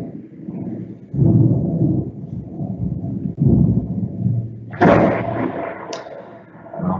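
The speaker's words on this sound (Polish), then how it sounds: "Pioruny u nas trzaskają" Thunder from a storm over Radzymin, Poland, rolling as low rumbling booms before a louder, sharper crack near the end, with no voices over it.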